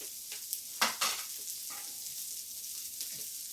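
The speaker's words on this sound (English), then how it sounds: "So I'm just going to put them in the pan. Not going to add any oil or anything to it because there's enough in the pan." Bologna slices sizzling in a pan without added oil, a steady close hiss with a few brief scraping stirs and pops.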